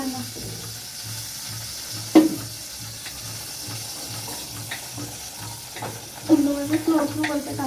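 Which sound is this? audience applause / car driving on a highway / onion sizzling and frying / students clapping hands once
onion sizzling and frying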